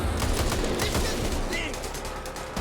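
Dense gunfire in the zombie shooter Back 4 Blood during a police station raid, rapid overlapping shots forming a continuous loud barrage, with a voice talking over it.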